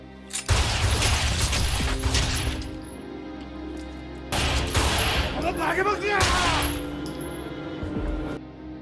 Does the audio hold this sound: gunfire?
yes